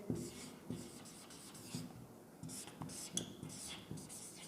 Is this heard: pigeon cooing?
no